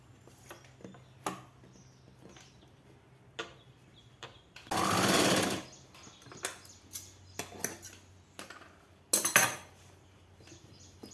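A sewing machine stitches a seam on a 42-inch blouse, running in a steady burst of about a second, then a second shorter run later, with scattered clicks and fabric handling between.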